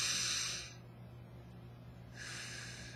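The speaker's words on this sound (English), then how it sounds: "let's do the last breath" A single deep breath taken during a guided breathing exercise: a loud, close airy inhale rushes in, eases into a quieter held stretch, then a long breathy release follows.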